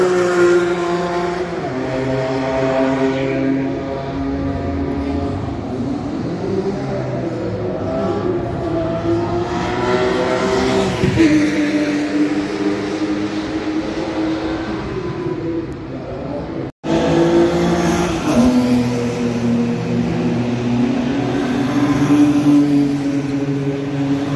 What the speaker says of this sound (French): on voit les voitures arriver de loin. On va voir passer devant nous dans la ligne droite